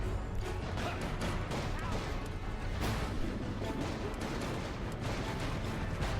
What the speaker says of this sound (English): That's certainly an explosion.